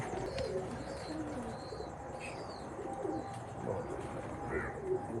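Laal Pari pigeons cooing in a loft, soft repeated low coos layered with a few higher chirps and light background bustle, fairly close and continuous.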